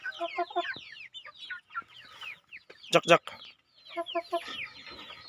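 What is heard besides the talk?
broiler chickens clucking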